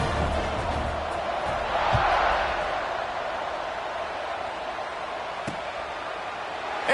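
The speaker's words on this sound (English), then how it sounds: "this crowd is buzzing after that last score" College football stadium crowd in North Carolina after a scoring drive against Indiana, a broad steady roar and murmur of many voices filling the space, with a few sharp thumps, no commentary on top.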